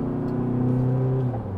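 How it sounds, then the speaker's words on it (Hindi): An SUV engine accelerates in sports mode from a stop on a hill road, a steady mid-pitched roar with rising tones that holds for about a second and a half, then eases slightly near the end, with no talking. "तो स्पोर्ट्स मोड में इसका एक्सेलरेशन चेक करते हैं"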